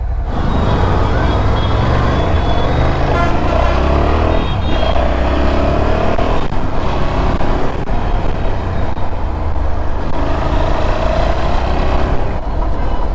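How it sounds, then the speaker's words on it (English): Triumph Tiger 660 motorcycle engine droning steadily while riding on the road, a loud continuous hum with wind rush and traffic noise, and a few speech-like sounds mixed in. "You need to still let the engine get really hot."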